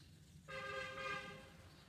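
A vehicle horn gives one sustained honk, faint and distant, starting abruptly and holding for over a second.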